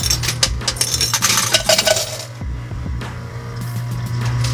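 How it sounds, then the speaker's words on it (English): A large batch of quarters pours out of a coin pusher arcade machine into the payout bin, a dense, bright metallic clatter of many coins that thins out after a couple of seconds into a scattered rattle over steady arcade hum. "That many quarters falling into the bin."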